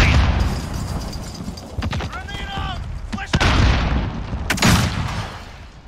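Call of Duty Modern Warfare combat: a grenade blast and loud bursts of gunfire, with heavy booming and sharp cracks throughout, while game voices call out over the action.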